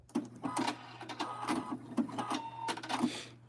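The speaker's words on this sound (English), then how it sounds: "I'll do a fix right there. Lock that stitch, and then I'll cut." A home sewing machine locks a stitch in a rapid series of short mechanical clacks and whirs, close and fairly quiet, with a low steady hum underneath.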